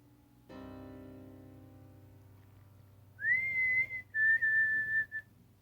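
A low, steady droning tone gives way to an eerie human whistle: two long, clear, sustained notes, the first rising slightly before holding, then a second held note after a brief gap, loud and close.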